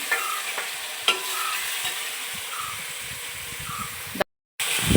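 Chopped garlic, green chilli, ginger and onion fry with a steady sizzle in an urn-style pot (uruli) for a village beef curry, with scraping stir strokes and occasional clinks of a utensil against the vessel.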